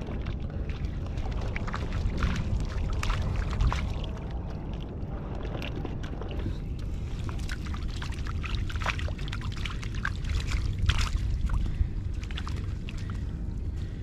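Heavy rain pours down in a dense, continuous roar that rises and falls slightly, loud and close.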